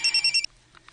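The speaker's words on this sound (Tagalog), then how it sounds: "Ang cellphone ni Budi" A mobile phone rings indoors with a loud, bright electronic tone pulsing in four quick bursts before cutting off, followed by faint soft clicks.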